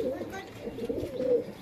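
Breeder pigeons in a home loft give a couple of close, low cooing calls in a short burst, with faint bird sounds around them.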